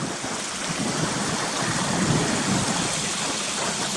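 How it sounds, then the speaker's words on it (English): A stream near Cautley Spout trickles and steps down over stones toward a river below, a continuous loud, close rushing wash of water with no pauses. "just trickling down, stepping down over these stones"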